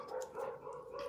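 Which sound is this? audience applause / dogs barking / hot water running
dogs barking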